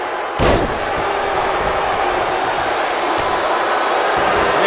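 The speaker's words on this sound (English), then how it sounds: "Shot to the midsection, clothesline." A single heavy thud of a clothesline impact in an AEW wrestling video game, sharp and close, followed by a loud, steady roar of an arena crowd in San Antonio, with a faint second knock moments later.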